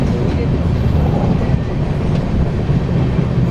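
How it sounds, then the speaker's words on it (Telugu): The Budh Purnima Express, an Indian passenger train running from Patna toward Varanasi, rumbles loudly and steadily on its rails, a dense continuous roar from inside the coach. "సో మన ట్రైన్ కర్వ్ చూడండి"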